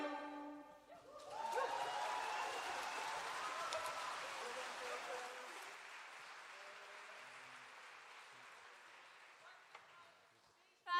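Concert audience applause at a tenth-anniversary show after a Gaelic song, building from a sparse start into a full, steady wash of clapping that slowly tapers off across the room.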